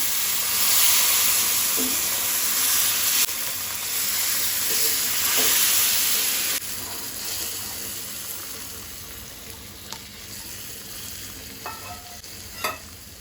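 Hot water poured slowly in small additions into semolina roasting over a low gas flame for Goan rava sheera, giving a loud broad hiss and sizzle that later settles into quieter bubbling with a few light clinks.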